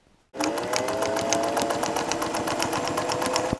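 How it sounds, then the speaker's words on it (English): A sewing machine stitches a sail panel for a steel sailboat, running steadily and close up with a fast, even rhythmic whir and needle chatter after a brief silent start, with no talking. "And then it goes through the sewing machine with the last panel being the smallest piece going underneath."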